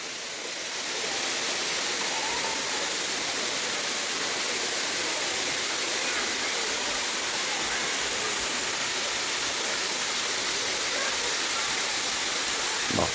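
Water plunges continuously at the Vazhappara Little Kuttalam waterfall, a loud, close, unbroken roar of falling water that holds steady from start to finish.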